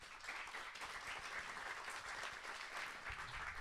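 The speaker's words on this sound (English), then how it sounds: "let's give a big applause to Joost and Rogier" An audience at a blockchain-for-food meetup applauding speakers on stage: a dense, even wash of many hands clapping, sustained and rather faint and distant, with no talking over it.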